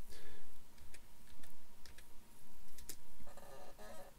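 Quick, light keystrokes on a computer keyboard come in short bursts with brief pauses, close and quiet against a faint room hum.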